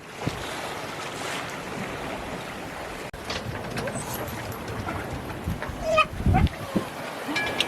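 A sailboat under sail on the open sea during an Atlantic crossing toward the Azores, with a steady rush of wind and waves, wind buffeting the microphone and a few louder splashes near the end.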